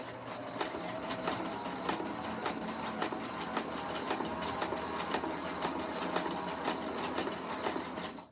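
A sewing machine stitches slippery lingerie fabric slowly and steadily, its needle chattering in a fast, even rhythm that stays close and constant throughout.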